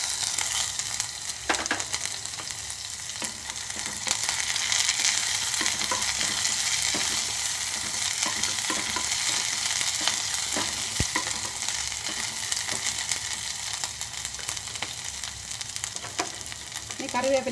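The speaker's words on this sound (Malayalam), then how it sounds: "ഇതൊന്ന് ഇളക്കി കൊടുക്കാം. നമുക്ക് അരിഞ്ഞ് വെച്ചിരുന്ന പച്ചമുളക് ഇട്ട് കൊടുക്കാം." Chopped green chillies fry and get stirred in a pan for a curd-based curry, producing a loud, continuous sizzle with scattered scraping and spatula knocks and no talking.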